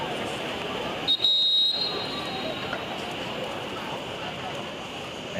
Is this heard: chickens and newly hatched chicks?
no